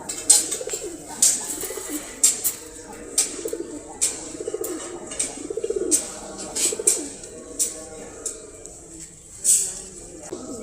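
Silver pigeons coo in repeated rolling phrases close by, separated by short pauses, with occasional faint clicks and rustles around them.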